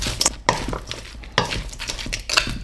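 A spoon stirs smoky beef empanada filling with roasted garlic in a pan, giving close scraping strokes and occasional clinks against the cookware.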